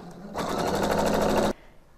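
A sewing machine runs a short right-angle stitch at a shoulder seam, one quick burst of rapid, even needle chatter for about a second, close and alone, then stopping.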